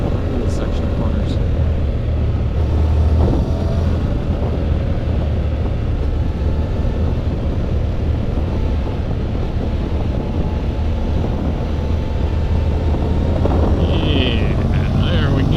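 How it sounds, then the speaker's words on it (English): A 2014 Honda CTX700 DCT motorcycle accelerates at full throttle, with a steady engine drone under heavy wind rush throughout as the rider talks over it. "Yeah, there we go, full throttle, back into automatic mode, let it shift up into fourth."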